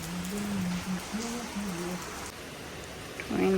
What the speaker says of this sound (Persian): چه بارونی